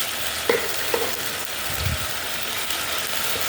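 Egg curry masala with turmeric, garam masala and salt is sautéed in a pan: a steady, moderate sizzle with a few scraping, clicking stirs near the start.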